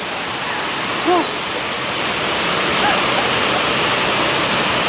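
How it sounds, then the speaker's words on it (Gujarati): Heavy rain pouring down outdoors, a loud continuous rushing wash with a brief faint voice early on. "અને વરસાદ પણ પડે બહુ છે"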